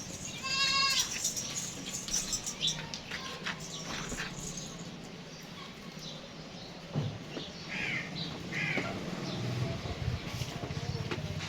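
Goats bleat on a goat farm in Karachi, with several loud, near cries coming in bursts. Softer bleats and background farm noise fill the gaps.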